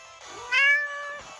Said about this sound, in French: mon chat qui fait des bisous à la caméra